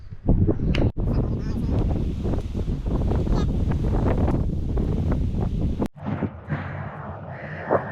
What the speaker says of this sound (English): I think it's a bit windy